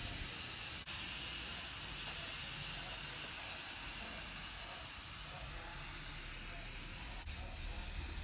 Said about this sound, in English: On the third coat, you want to spray it on a little bit more wet